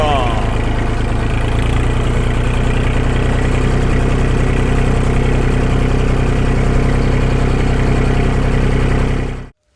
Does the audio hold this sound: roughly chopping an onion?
no